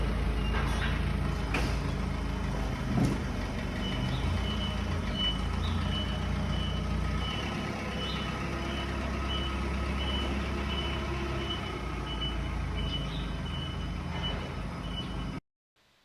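A forklift lifting a large pallet for a freight pickup beeps steadily in reverse at a regular pulse over a low running engine rumble, with a few clanks, before the sound cuts off abruptly.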